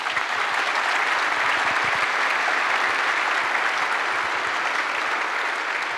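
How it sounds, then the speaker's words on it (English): An audience claps for volunteers at a broadcast event, a dense, sustained round of applause that stays loud and even throughout with no talking over it. "I think we should give them a round of applause."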